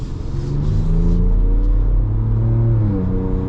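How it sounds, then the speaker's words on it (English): Stock-tune V6 in a 2025 Ford Ranger Raptor runs loud and close, a steady deep rumble that swells slightly as it revs, with no voices over it. "Now this engine is beautiful."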